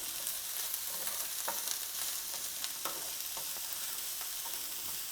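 Red peppers and onions sauté in a hot pan, giving a steady close hiss of sizzling with occasional spatter pops and light stirring knocks, continuous throughout with no talking.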